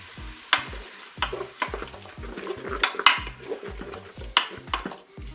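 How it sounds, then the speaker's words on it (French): Raw ham pieces browning in a Cookeo multicooker on its browning setting, with a spoon scraping and clattering against the pot in irregular strokes over a soft sizzle, close and fairly clear. "je vais ajouter maintenant mes morceaux de jambon cru"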